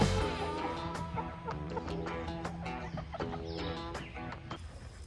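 Chickens cluck close by in short, repeated bursts, with scattered clucks and squawks overlapping at a moderate, steady level.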